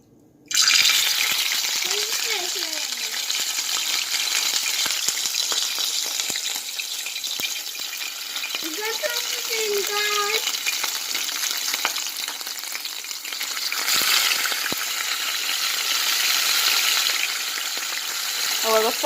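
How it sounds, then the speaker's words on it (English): Saltfish frying in hot oil in a home kitchen, a steady loud sizzle with occasional stirring, brief sliding tones and a short lull near the end. "I will fry them till them crisp."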